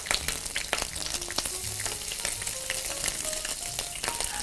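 Bacon fries in a pan with a dense, steady crackle and sizzle close by, and occasional light clinks of stirring sound through it.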